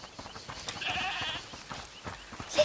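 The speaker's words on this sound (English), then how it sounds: "Listen, is that the goat he talked about?" A goat bleats in A Plague Tale: Requiem, one drawn-out wavering call over quiet game ambience, at moderate distance and fairly clear.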